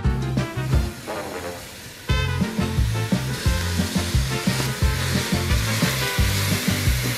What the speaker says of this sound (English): As soon as the pan gets a little hot, we're going to add some olive oil.